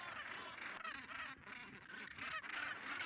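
A huge northern gannet colony calling, with dense overlapping harsh, honking cries from many birds at once, loud and continuous with no pause.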